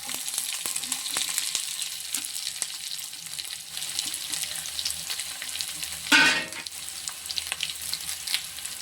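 Chopped onions sizzle steadily in hot oil for bitter gourd stir-fry, a constant crackling hiss with occasional stirring scrapes and one brief louder burst of sizzle midway.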